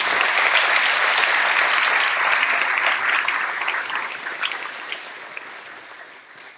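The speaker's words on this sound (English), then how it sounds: "Give them a round of applause." Graduation audience at Mount Vernon High School applauding the final graduates and their families, a dense sustained wash of many hands clapping that gradually thins and softens toward the end.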